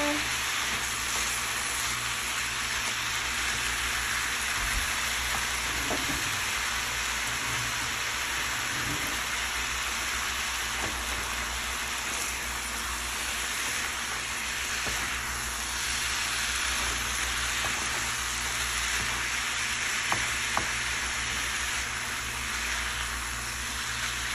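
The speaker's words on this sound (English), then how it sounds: "just stir your meat with the seasoning that we just use" Ground meat with taco seasoning sizzling in a frying pan as it is stirred, a dense continuous hiss close up with occasional scrapes of the utensil against the pan.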